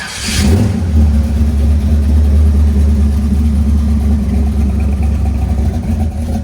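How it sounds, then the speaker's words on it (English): A 1969 Chevy C10 truck's 383 stroker V8 with headers and Flowmaster 40 Series exhaust blips and revs, holding a throaty, rumbling roar close by with no talking. "1969 Chevy C10. Stroker V8."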